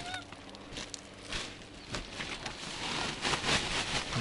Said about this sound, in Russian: Привет, гусь. Как у тебя дела?